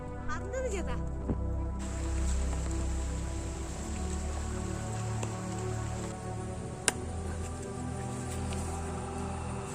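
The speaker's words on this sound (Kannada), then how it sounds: "ಮಳೆ ಜೋರಾಗಿ ಬರ್ತಾ ಉಂಟು" Heavy monsoon rain falls on a village, a dense continuous patter with a low background hum, as a voice speaks over it.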